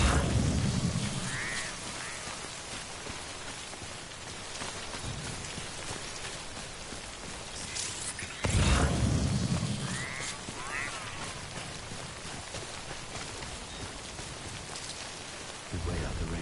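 Steady rain pours across the whole stretch in the video game Death Stranding, with rumbles of thunder and a brief bird-like call now and then, no voices over it.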